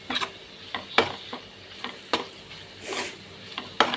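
A spoon scrapes and stirs through fish curry in a pan after chili powder goes in, giving irregular clanks and scrapes over a low sizzle, close.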